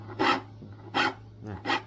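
A file rasped across the teeth of a hand saw to sharpen it, three distinct strokes at a relaxed even pace, close and clear with no talk.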